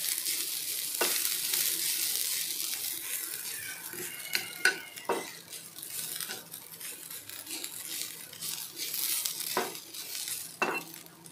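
Red chillies fry gently in a little oil for a mackerel curry, giving a steady close sizzle with occasional clinks and scrapes of a spoon against the pan; no one talks.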